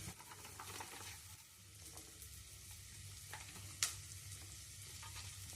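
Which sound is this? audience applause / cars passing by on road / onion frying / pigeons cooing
onion frying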